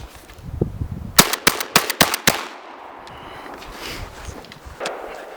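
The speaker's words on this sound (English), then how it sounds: "I'm going to shoot this just a little bit more" Dominion Arms Cougar shotgun, a Remington 1100 clone, firing a mix of birdshot target loads and buckshot outdoors: a rapid string of six loud, sharp blasts about a quarter second apart, then quieter ambience and faint movement.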